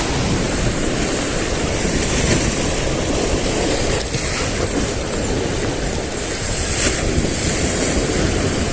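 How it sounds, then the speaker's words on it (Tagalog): Strong ocean waves heard from a fishing boat out at sea, a constant loud wash of surf mixed with heavy wind buffeting the microphone. "grabe lakas ng alon dito"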